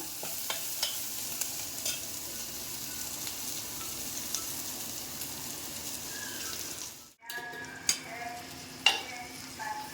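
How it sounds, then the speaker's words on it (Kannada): Bitter gourd is stir-fried in a pan with turmeric, sizzling steadily while a spoon scrapes and stirs. After a short break the frying comes back with sharper clatters. No one speaks. "ಇದು ಸ್ವಲ್ಪ ಚೆನ್ನಾಗಿ ಫ್ರೈ ಮಾಡೋಣ"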